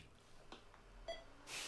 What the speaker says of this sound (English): we could hear the Tandy start a beep, meaning that the computer has started